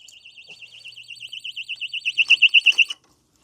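A motorcycle disc lock alarm goes off, a warbling electronic tone rising steadily in loudness over about three seconds into sharp pulsing beeps before cutting out abruptly.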